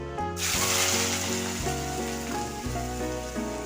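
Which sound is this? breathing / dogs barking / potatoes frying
potatoes frying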